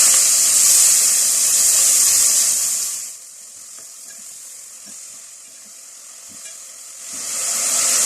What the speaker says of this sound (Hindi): प्याज को दरमियानी आंच पर लाइट गोल्डन होने तक फ्राई कर लेते हैं।